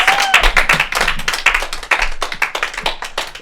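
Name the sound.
audience applause for a comedian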